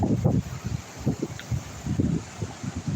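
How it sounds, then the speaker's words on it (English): Gusty wind buffets the microphone in low, uneven rumbles at Cazenovia Park falls in Buffalo, NY, with no talking. "And it's nice and windy out here."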